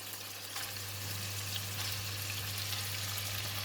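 Yellow onions frying in a pan for fried kuey teow, a steady bright sizzle that swells louder after the first second and holds, over a constant low hum.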